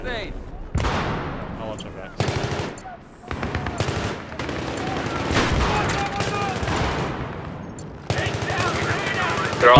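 Assault rifle fire in a Battlefield 3 match on the Grand Bazaar map: repeated loud bursts and volleys of gunshots, close and echoing, with some talk underneath.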